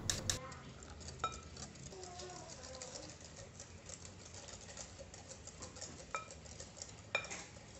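A banana cake batter mixed with melted butter is stirred by hand in a bowl, making a steady soft scraping and tapping patter with a few clinks, close and moderately quiet, with a voice speaking over it.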